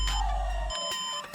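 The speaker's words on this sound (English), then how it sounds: "right now our beeping code changed to 3 beeps because, and 3 beeps means processor is not installed or" A PC motherboard POST beep code signals a missing or damaged processor, heard as short electronic beeps under a low hum, close and fairly quiet, with no talking.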